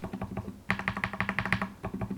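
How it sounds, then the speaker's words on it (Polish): Mechanical keyboard switches clicking into place with a run of crisp, evenly spaced taps, close and fairly quiet, with no one talking. "Wkładam Switcha."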